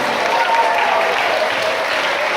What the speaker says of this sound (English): So let's give our Shrek a big round of applause.